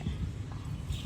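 Hooves of a horse pulling a tourist carriage through the streets of Lampang, Thailand, clip-clop in a steady, close walking rhythm, with faint voices in the background.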